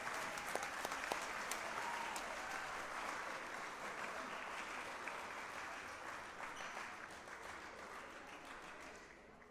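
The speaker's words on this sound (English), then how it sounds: "So how about a big round of applause for those ladies and gentlemen." A concert audience applauds for a school band in a steady, fairly distant wash of clapping that holds evenly and tapers slightly toward the end.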